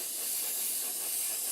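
A spray gun lays down a glossy coat in a steady, unbroken hiss that stays at one level throughout, bright and airy, with no voices over it.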